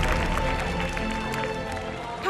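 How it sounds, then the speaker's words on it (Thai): Applause and cheering from an audience at a Thai youth documentary competition award presentation, dense and steady throughout, mixed with crowd murmur and a swell at the end. "ขอเสียงปรบมือดังๆหน่อยนะครับ"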